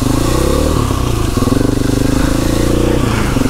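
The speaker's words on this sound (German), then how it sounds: "Wir fahren jetzt einfach mal durch." A motorcycle rides through floodwater with a loud, close engine drone, rising and falling revs and some clatter and splashing, heard for a few seconds with no talking.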